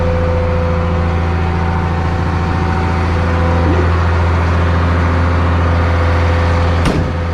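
A truck engine idles high while charging, giving a loud, steady, droning hum with a constant low tone that runs unbroken throughout, and a brief click near the end.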